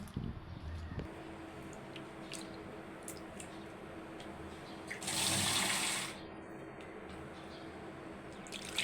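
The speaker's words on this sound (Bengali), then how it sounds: "এবারে পানি দিয়ে দেব" Water splashes and pours into a cooking pan of small fish for about a second in a steady rush, standing out over a quiet kitchen background of low hum and small clatters.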